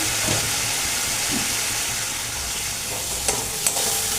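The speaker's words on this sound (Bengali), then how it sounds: "দিয়ে এবারে একটু ভালো করে কষানো হবে" Spice paste fries down with salt in a pan for a Katla fish curry with potato and pointed gourd. A dense, steady sizzle runs throughout, broken by a couple of sharp utensil taps near the end.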